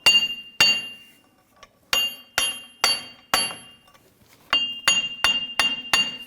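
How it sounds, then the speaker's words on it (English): Hammer blows knocking a wheel hub out of the steering knuckle on a 2011-2021 Jeep Grand Cherokee: about a dozen loud, ringing metallic strikes in irregular bursts, close up and with no talking. "We're going to use our hammer and work that wheel hub out of the knuckle."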